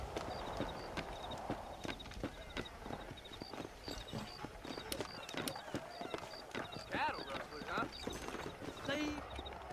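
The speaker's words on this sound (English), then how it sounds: "Do you see those horses to the left by the building across the street?" Horses' hooves clip-clop steadily in the Western video game Red Dead Redemption, a busy rhythm of scattered hoofbeats in a town street, heard beneath a voice talking.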